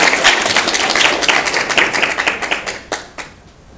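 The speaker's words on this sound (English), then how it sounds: "just ginormous round of applause again" An audience gives a big round of applause after a final presentation, dense clapping that stays full for nearly three seconds, then thins into scattered claps and fades out.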